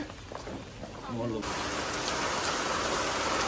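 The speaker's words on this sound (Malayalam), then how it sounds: "ഗൈസ് ആക്ച്വലി നല്ല മഴയാണ് കേട്ടോ" Heavy rain pours outside at an Ayurvedic village resort, a dense, steady hiss that suddenly swells to fill the scene after a brief voice at the start.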